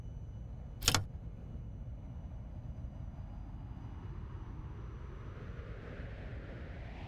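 F-35 jet engine in a flight simulator, a steady low rumble that holds throughout, with one brief sharp burst near the start.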